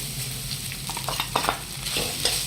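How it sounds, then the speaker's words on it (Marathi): Dry fruits and poppy seeds roasting in ghee, a close steady sizzle broken by soft scraping stirs of a spoon, brief and continuous without any speech. "हे ड्रायफ्रूट्स हे पण आपल्याला तुपात भाजून घ्यायचे आहे"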